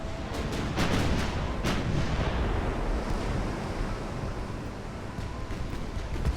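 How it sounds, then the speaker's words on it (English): Dense rumbling naval gunfire from the video game Ultimate Admiral: Dreadnoughts, many booming shots over a constant roaring wash of noise, like heavy cannons firing amid wind and sea. "A lot of gunfire."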